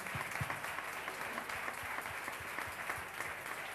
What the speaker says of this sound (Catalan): Un aplaudiment per a la filla i el gendre d'Estellés